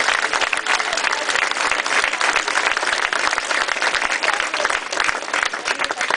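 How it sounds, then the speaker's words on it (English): Political campaign volunteers at an outdoor BBQ event clap in loud, sustained applause, a thick, continuous crackle of many hands with no voices over it. "Give yourself a round of applause."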